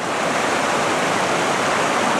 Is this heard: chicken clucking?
no